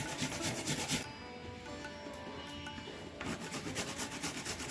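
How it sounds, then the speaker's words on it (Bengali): A radish being grated by hand for a Bengali mulo ghonto dish: steady, close rasping strokes repeated in a quick rhythm, with a brief lighter stretch in the middle and no talk. "সেই জন্য মূলোটা ঘষে নিচ্ছি"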